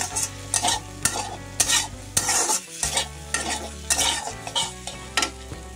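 Masala pasta with chili sauce and soy sauce being stirred in a hot pan, a utensil scraping in steady repeated strokes over a continuous close sizzle.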